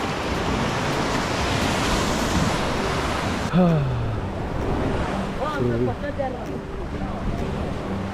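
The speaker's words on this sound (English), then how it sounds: "So this is a Japanese beach." Ocean waves roll and break on a beach in Goa as a steady, loud roar of surf mixed with wind buffeting the microphone, with voices speaking faintly underneath.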